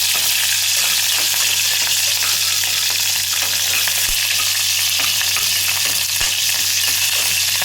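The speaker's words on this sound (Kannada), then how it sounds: "ಮೊದಲಿಗೆ ನಾನು ಹಸಿಮೆಣಸಿನಕಾಯನ್ನು ಹಾಕಿ ಸ್ವಲ್ಪ ಬಾಡಿಸ್ಕೊತೀನಿ" Green chillies sautéing in hot oil with cumin in a pan, a loud, dense, unbroken sizzle filling the whole stretch, close and steady with faint stirring underneath.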